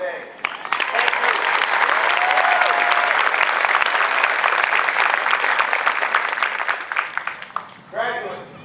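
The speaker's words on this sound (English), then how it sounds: "I want to give you a round of applause for their support for them today." A crowd at an Air Force Basic Military Training graduation parade at Lackland Air Force Base applauds for several seconds, a steady dense wash of clapping that tapers off, then a short burst of clapping returns at the end.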